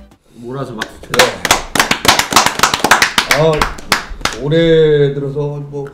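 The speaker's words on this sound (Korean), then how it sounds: "몰아서 박수 쳐요." Studio audience applause greeting a guest on a Korean comedy talk show: a dense run of claps lasting several seconds, mixed under a loud speaking voice.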